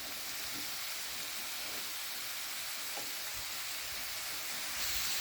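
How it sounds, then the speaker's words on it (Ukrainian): Onions and carrots sizzle and hiss in a hot, covered pan, a steady, even crackle that runs throughout without pause. "Накриваю кришечкою і смажу до прозорості."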